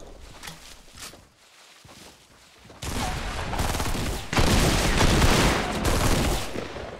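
Fortnite gunfire in a cornfield firefight, with a few scattered shots early on, then sustained rapid bursts growing louder and denser through the second half.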